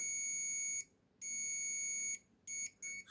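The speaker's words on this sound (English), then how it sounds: "And then pressing the switch, and we have the sound mark on the multimeter." Continuity beeper on a multimeter sounding as a switch is pressed during an internal cable check: steady high-pitched electronic tones in four bursts, two long and two short, separated by brief silences, close and clear.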